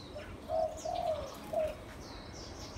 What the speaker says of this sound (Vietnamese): Nuôi chim chim cọp nữa. Chim cọp nhiều.